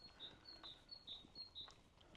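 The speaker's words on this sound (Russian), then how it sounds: "Птицы поют." Birdsong along a quiet asphalt village street lined with small houses and garden gates, repeated high chirps and tweets at a steady pace, moderately near, faint overall with no talking.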